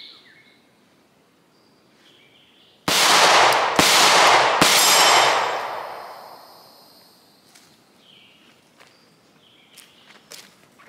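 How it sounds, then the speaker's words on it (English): Three sharp Glock 43X pistol shots fired at a 7-yard range, loud and close, evenly spaced about a second apart, each a hard crack with a long echoing tail, amid quiet outdoor ambience with faint bird calls. "Shooting at a 7-yard distance."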